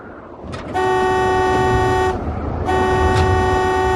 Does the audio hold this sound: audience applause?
no